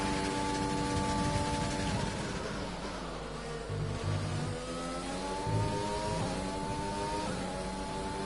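F1 car engine from the F1 2020 game on a flying lap at Catalonia, Barcelona, revving steadily high with rising and falling gear-change sweeps, loud and continuous with no talk.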